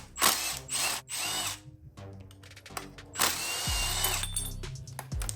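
A power tool, drill-like, backs out the two bolts holding the brake caliper assembly on a crashed Triumph Street Twin 900 motorcycle; loud close whirring bursts with brief pauses, then a ratcheting spin-down near the end.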